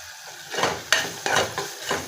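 Whole spices such as cinnamon, clove and cardamom sizzle in oil in a pan for pudina rice, with a spoon stirring in three or four quick scraping strokes over the steady frying hiss.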